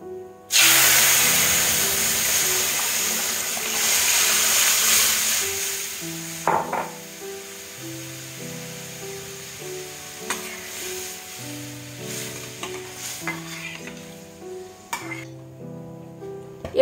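Boiled dal poured into a dried red chilli tempering, bursting into a loud rushing sizzle that slowly fades over several seconds, followed by quieter bubbling and clinks while music plays softly underneath.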